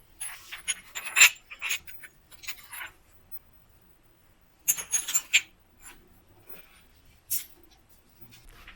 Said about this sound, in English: I'm brushing back the edge just to make a slight bevel on one side